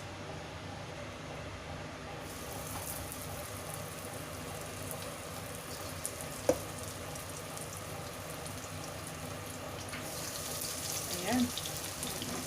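Fish fillet frying in hot oil for a Chinese-style dinner gives a steady, fairly faint sizzling crackle throughout, with a few brief pops.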